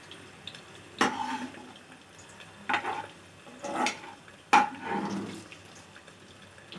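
Fried pointed gourd lifted from hot oil and strained in a home kitchen: a few separate scraping, stirring clatters with soft sizzling and dripping between them, close and moderately quiet.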